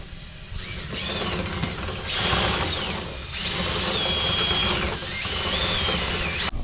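Power drill spinning a cleaning brush through a dryer vent duct, a loud steady motor whir with pitch rising and falling in several surges as the brush works inside, no talk.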